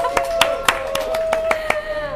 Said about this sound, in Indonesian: Mau dong tepuk tangannya sekali lagi buat treatment kita